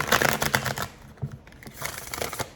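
Tarot cards are shuffled by hand in a series of quick, crisp flutters and riffles that come in bursts, close up, with short pauses between them and no talking.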